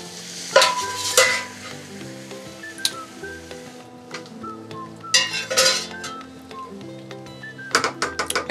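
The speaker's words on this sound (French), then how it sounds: "on ajoute le bouillon de poule." Chicken broth poured into a sizzling risotto pan, once the white wine has evaporated, hisses and crackles as it is stirred, with scraping spoon strokes and clinks against the pot in bursts, close and without speech.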